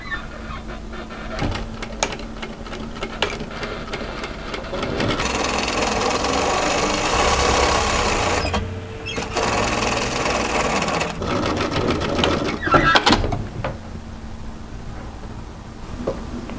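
A sewing machine stitches a hem along an overlocking line on a turtleneck tunic, starting with light ticking, then running in a long, steady, close burst, stopping briefly and resuming before slowing to clicks.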